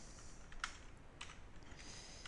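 Computer keystrokes are pressed on a keyboard during a command-line lesson. Several soft, sparse clicks come at an uneven pace, faint and close, with no voices.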